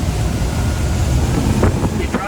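A 2020 Sundancer 320 boat cuts through a hard turn, with steady engine and rushing water noise blended with wind buffeting on the mic.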